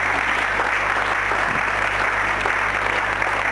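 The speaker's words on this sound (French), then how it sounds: "je crois que nous pouvons applaudir de tout cœur les gagnantes de cette semaine" A television game show studio audience applauds the week's winning contestants with steady, dense clapping that fills the whole stretch loudly and evenly, without any speech over it.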